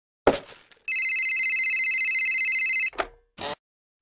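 A telephone rings once in a TV drama, a steady electronic trill lasting about two seconds, with short thumps and clatter just before and after it.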